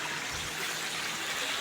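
Water from a small waterfall in a village in Odisha rushes in a steady, dense broadband wash with no breaks, close and fairly loud.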